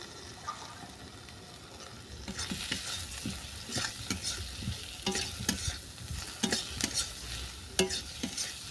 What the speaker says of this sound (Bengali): আলুটাকেও ভালো করে মিশিয়ে নিলাম।